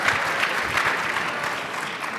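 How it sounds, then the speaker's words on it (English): A live audience at an America 250 kickoff event bursts into steady, dense applause that fills the whole moment, with no pauses in the clapping. "Round of applause."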